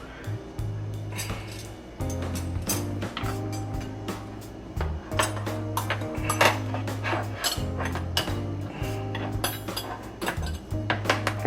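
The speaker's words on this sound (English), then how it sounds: "we'll place the silverware there next to our napkins" Silverware and dishes go down on a breakfast tray, with repeated clinks, clatters and knocks of metal and crockery close by over a steady low hum.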